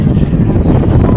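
Gusty wind buffets the microphone at a Philippine ferry port, a loud, close, continuous low roar with no other sound standing out.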